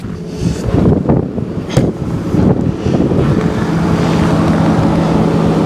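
A 2023 Chevy Silverado with the 3.0L Duramax diesel idles in bitter cold, giving a steady, loud, rough rumble mixed with wind buffeting on the microphone.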